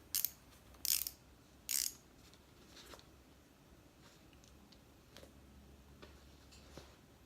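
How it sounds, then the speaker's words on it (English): A ratcheting screwdriver drives a screw into a shoe, giving three sharp, close clicks in the first two seconds, then fainter scattered ticks of the ratchet mechanism over a quiet background. "I have a handy ratcheting screwdriver."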